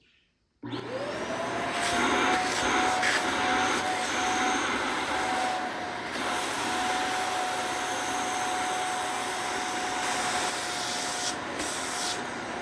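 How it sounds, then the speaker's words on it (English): A portable steam carpet and upholstery spot cleaner's vacuum motor starts up abruptly and runs loudly and steadily with a sustained whine and broad rushing noise, close by, with no talking. "Now I'm gonna use the vacuum like that."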